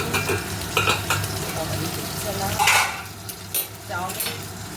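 Potatoes and onions fry in a pan alongside egg, a close crackling sizzle broken by scraping, stirring strokes of a utensil, with some talk in the background.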